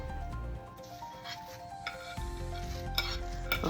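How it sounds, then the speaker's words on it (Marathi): Spatula scraping and stirring poha with turmeric, spices and oil in a pan, a soft scrape and light clatter close by over a faint sizzle. "फक्त तेलात आपल्याला सगळे मसाले, त्या पोह्याला हळद, सगळे मसाले, तेल सगळीकडे लागलं पाहिजे म्हणून व्यवस्थित हलवून घ्यायचं आहे"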